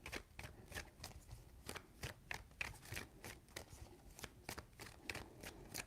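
Tarot cards shuffled by hand in a steady run of crisp riffling bursts, about a dozen sharp ripples repeating every half second, close and clear with no talking over them.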